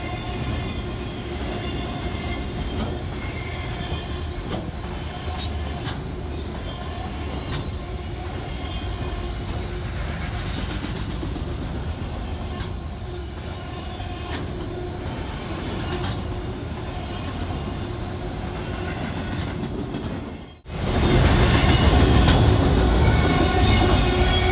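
Freight train with empty auto racks rolling past on the D&H line, a long steady rumble of cars with wheel clatter and faint squeal, then a sudden louder roar as a close car sweeps by near the end.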